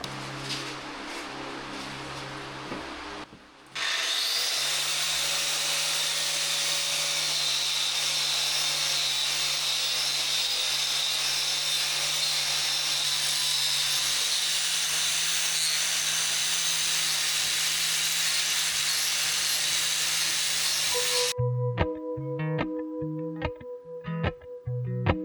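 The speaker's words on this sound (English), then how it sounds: "that's definitely a rough sanding" A power sander works rough-sanding wood indoors, a steady loud hissing whir that starts abruptly and runs for about twenty seconds before cutting off into a few sharp knocks and clicks.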